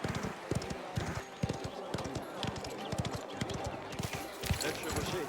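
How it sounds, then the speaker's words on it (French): Galloping horse hooves pound fast and close in Mafia The Old Country, a quick rhythmic drumming under a busy mix of game ambience and voices. "Tu sais vraiment foncer à cheval."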